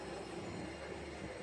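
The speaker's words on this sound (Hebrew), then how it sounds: "הנה הרכבת," A light-rail train pulls into Davidka station in Jerusalem with a dense rolling rumble and a faint high squeal of the wheels. The sound holds steady and fills the street scene, with no talking over it.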